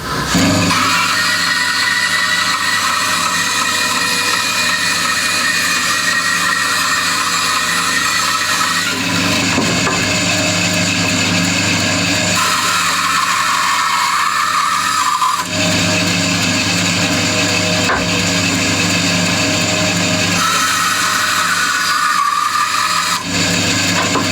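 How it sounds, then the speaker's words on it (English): A bandsaw runs loudly and steadily nearby, cutting reclaimed tabletop wood for a Harmony Stratotone style guitar build, with the blade's whine shifting in pitch as passes start and stop. "Got it on the bandsaw."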